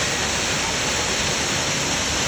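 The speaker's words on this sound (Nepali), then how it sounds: "अहिले चाहिँ हामी झोर झरनामा छौँ" Jhor waterfall near a Mahadev temple roars as a loud, dense, unbroken rush of falling water, close by and filling the whole scene.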